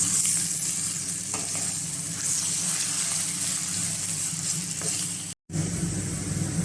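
Aloo matar with rice and salt being stirred in a pan, a steady close scraping and sizzling texture with a brief drop to silence near the end.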